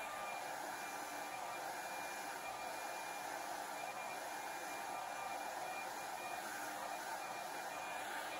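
A blow dryer runs in a steady, even whoosh as it blows across poured epoxy resin art, held up close throughout at low level, with no talking.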